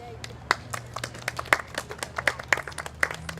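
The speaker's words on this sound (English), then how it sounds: "We can clap for ourselves." Scattered, uneven clapping from a small audience at a heritage seating dedication, with distinct individual claps standing out over a low hum.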